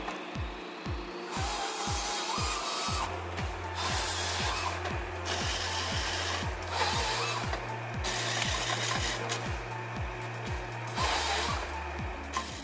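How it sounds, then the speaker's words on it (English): A Waratah 622 harvester head processing a tree, heard as a rapid series of rhythmic mechanical clanks and ratcheting pulses roughly every half second, with bursts of louder machine roar over a continuous engine drone. "The time it takes for this machine to process a tree only takes about 3 minutes."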